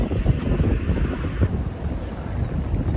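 Strong wind roars and buffets the microphone continuously outdoors in Taiwan, a loud, steady rumbling gust with no voices.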